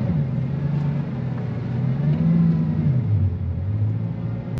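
A car engine hums and rumbles steadily close by at a drag strip before a quarter-mile race between a Bugatti and a Tesla Plaid, with a slight rise in pitch like light revving.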